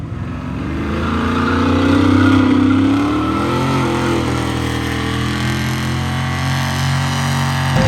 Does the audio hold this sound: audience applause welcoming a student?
no